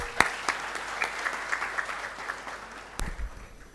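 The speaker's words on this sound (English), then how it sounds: "A huge round of applause." Applause from an audience, a dense patter of clapping that gradually fades, with a sharp thump near the end.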